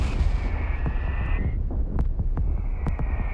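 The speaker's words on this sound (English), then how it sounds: "And that's the registered artillery, I believe." Artillery fire in the real-time strategy game Company of Heroes 3, with sharp distant shell impacts popping over a dense low rumble of battle noise and a sustained whining engine tone.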